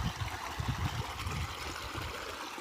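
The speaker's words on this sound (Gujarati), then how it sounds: "અને આ આપણું ધોરીએ પાણી જાય છે" Irrigation water runs along a farm channel toward an onion field, a soft continuous trickling and burbling flow, fairly quiet and steady, with no talk.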